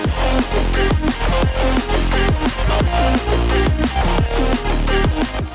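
Loud, dense drum and bass with punchy drums, heavy sub-bass and gritty synth stabs in a fast, driving rhythm, no voices.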